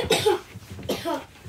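A child coughs twice in a home setting, short close bursts a moment apart with a little throat noise between them.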